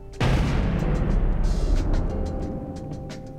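A single weapon shot in the space game Starmade fires as a sudden loud blast with a long rumbling decay over a few seconds, dotted with faint clicks and a steady hum underneath.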